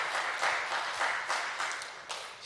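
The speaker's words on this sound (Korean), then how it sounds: "우리 다시 한번 박수 한번 좀 쳐주시고요" A church youth congregation at Oryun Church claps together in a steady patter of applause, fairly quiet and distant, with brief swells throughout.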